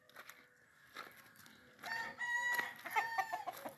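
A fighting rooster on a ranch crows nearby, a long, loud cock-a-doodle-doo rising after softer clucks and calls, with other fowl faintly in the background and no talk.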